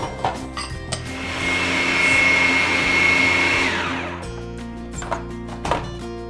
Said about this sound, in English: And we'll blend it up.